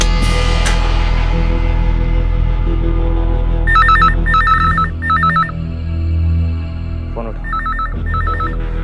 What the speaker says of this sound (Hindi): चल फोन उठा।